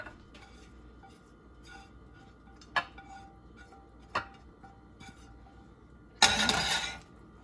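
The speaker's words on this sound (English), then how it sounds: "Gonna mix this together." Broccoli being mixed into a chicken filling in a bowl: a few faint, scattered clinks in a quiet room, then one short, louder scraping burst of the utensil against the bowl.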